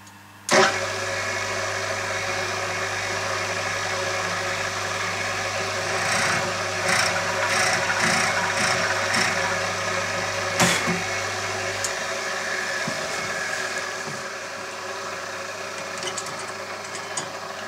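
A pillar drill press bores a hole in a clamped wooden workpiece, its motor humming steadily with sharp knocks and a rattle of cutting, then the motor winds down and goes quiet.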